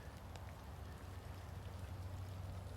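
Steady rain falls outside a covered porch, a continuous near hiss of drops with a low patter on wet surfaces, unbroken and without talk.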